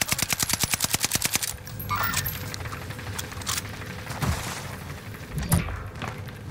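Rapid automatic gunfire from Call of Duty Warzone Last Stand mode, a fast regular burst of loud shots up front, followed by scattered thuds and softer impacts in a busy game soundscape.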